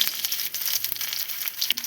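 Garlic sizzling in hot oil for a Kerala tomato curry gives a steady, bright crackle and hiss close up, with a few small pops and no talking.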